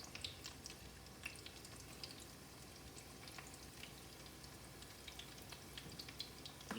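Chicken pressed with cheese fries in a pan, giving a steady, faint sizzle with scattered small pops and crackles, close but quiet, with no talking.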